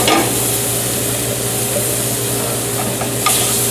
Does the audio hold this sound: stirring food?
yes